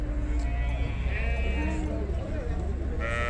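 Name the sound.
Merino sheep and lambs bleating at livestock market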